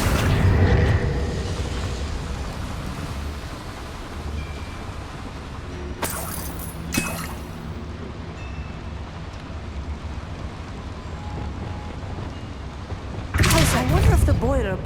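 A Confringo blasting spell bursts with booming explosions in Hogwarts Legacy inside a small mine, with two sharp blasts mid-way and another near the end over game ambience and someone talking.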